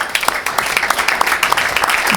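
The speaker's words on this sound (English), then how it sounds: "A round of applause for these campuses." An audience at a school board meeting claps in a brief, dense burst of applause lasting a couple of seconds.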